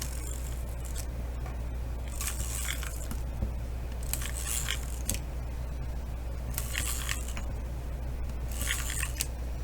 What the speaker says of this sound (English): I'm just going to put tape on the back.